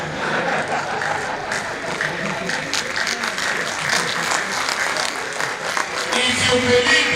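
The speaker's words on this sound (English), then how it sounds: "I can see that you are clapping according to my height and stature." Delegates at a medical and health workers union conference clapping, a continuous crowd of hands at moderate loudness with some talk and light laughter mixed in, swelling slightly toward the end.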